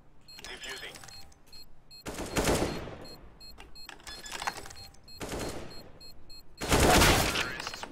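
Gunfire in Counter-Strike on the Cache map: several short bursts of rifle shots in separate clusters, loud and close, with people talking between them.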